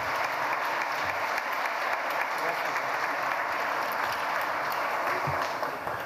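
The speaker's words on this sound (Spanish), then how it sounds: "Un aplauso, por favor, a los panelistas de este" Audience at a cybersecurity forum applauds the panelists in a sustained, even burst of clapping that fills the room, steady and fairly loud from start to finish with no speech over it.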